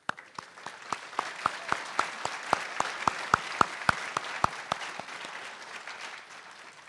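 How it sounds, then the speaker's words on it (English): Recognition applause at a university graduation ceremony, heard as a rhythmic, evenly spaced series of sharp claps building slightly and then fading out, over a soft room ambience. "Please join me in a recognition applause."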